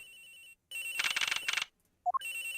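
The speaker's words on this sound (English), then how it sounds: "The ringing's coming from somewhere in here" A cell phone ringtone in the Ace Attorney Investigations video game, a loud electronic ringing melody that repeats in short bursts, broken by brief gaps and a rising blip, with no talk.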